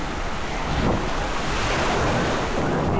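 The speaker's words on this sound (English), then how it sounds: "it's a windy day, so we have some waves" Steady surf washes in at a beach on Malta under gusting wind buffeting the microphone, a continuous loud roar of water and air with no voices.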